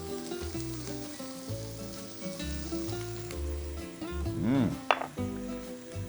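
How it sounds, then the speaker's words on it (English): Onions, garlic, dried mint and cumin sizzle in a hot pan for stuffed artichoke rice, a steady close frying hiss with occasional stirring scrapes and a brief utensil clink near the end, no talking. "I love to saute my spices so that way the aroma comes out much better."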